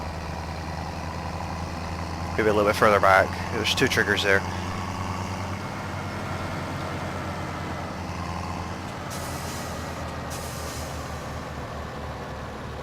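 A tractor engine idles steadily in Farming Simulator 17 while hauling straw, a constant low rumble that runs underneath the whole stretch, with someone talking briefly over it.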